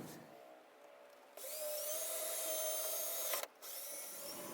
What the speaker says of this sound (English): I'm going to start by drilling some small pilot holes